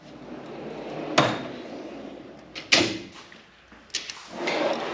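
A drawer on a Snap-on Master Series tool box sliding open and shut, with several sharp metallic clunks and rolling rumbles close by, and no talking.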